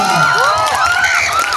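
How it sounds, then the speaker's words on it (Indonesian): Audience at a press screening of the film Susuk cheering and whooping, a loud crowd of mixed voices with some shouting, sustained throughout. "Kita beri tepuk tangan dulu dong."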